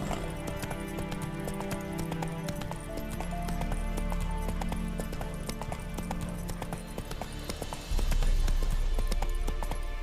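Hooves of Roach, a horse in The Witcher III, drum in a quick steady gallop under game music, then the beat turns louder and heavier near the end.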